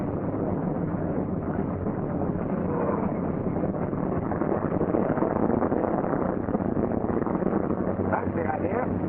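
A Douglas C-47's heavy radial piston engine starts and rumbles steadily and loudly throughout, with a deep low drone and wind-like roar, close to the microphone.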